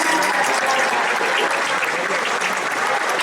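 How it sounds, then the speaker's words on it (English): At a project launch party in an Irish center, a large audience claps steadily, producing a dense, loud, even wall of applause with no gaps and no talk over it. "if we can give him another big round of applause"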